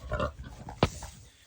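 A sow grunts on a homestead pig farm: a few low, rough snorts, with one abrupt louder grunt in the middle and fading murmurs after.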